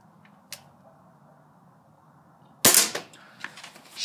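An air gun fired at a camel spider, a faint click early on, then a single sharp loud crack after a couple of seconds of quiet, followed by brief rattling handling noise.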